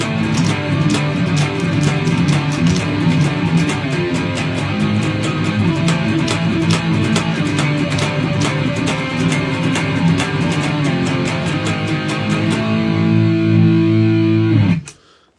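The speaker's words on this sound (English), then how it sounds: "this is kind of my basic distortion" A distorted electric guitar plays through an amp with sustained, gritty chords and rhythmic strums, loud and steady, ending in a ringing chord that cuts off.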